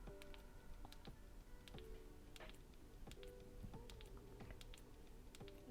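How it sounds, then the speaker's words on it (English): Buttons on a Samsung Galaxy S21 FE in a Caseology Vault case are pressed repeatedly, making faint, quick tactile clicks in an irregular run over quiet room noise. "So now let's go ahead and do the clicky button test."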